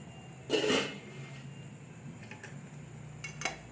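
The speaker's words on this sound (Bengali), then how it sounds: "এবার আমরা ঢাকনাটাকে তুলে নেব" A metal lid is lifted off a pot of palm-fruit pulao: one short clattering scrape and clank, followed by faint scattered clinks in a quiet kitchen.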